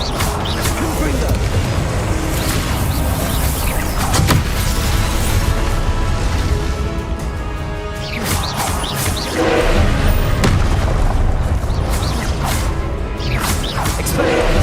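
Confringo blasting spells fired in Hogwarts Legacy, producing repeated whooshing blasts and crashing impacts amid continuous game noise, with a person shouting spell names over them throughout.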